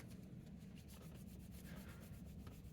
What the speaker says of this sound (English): when you get down to the finer grit sandpapers, you can actually restore some shininess to the figure